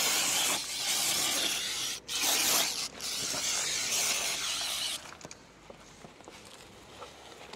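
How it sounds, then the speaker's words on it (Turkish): Loud hissing brake cleaner spray in long bursts with brief pauses on a Mercedes Sprinter 313 CDI, then stops, leaving quiet scraping and small clicks. "Zaten balata spreyi sizin yapacağınız işin çoğunu yapıyor."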